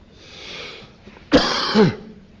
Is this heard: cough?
yes